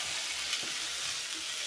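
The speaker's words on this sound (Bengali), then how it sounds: "ভালো করে ভাজা ভাজা করছি পেঁয়াজটা কাঁচা দিলাম" Raw onion frying with ginger-garlic paste in a pan gives a steady, quiet sizzle that hisses evenly throughout.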